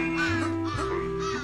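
Cawing crows in the platform video game Santa Claus in Trouble, harsh repeated electronic caws over steady game music.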